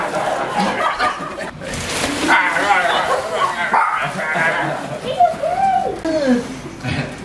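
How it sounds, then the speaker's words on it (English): A dog yips and barks amid a lively family birthday gathering, its short sounds mixed in with steady chatter, laughter and playful voices close by. "Oh my god, the dog."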